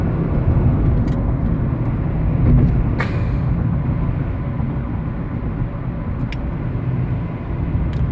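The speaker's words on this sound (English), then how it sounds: "This is what morning traffic looks like if you have a good route." Morning road traffic: a continuous close rumble of passing cars and engines, loud and steady, with a few sharp clicks and bursts over the drone.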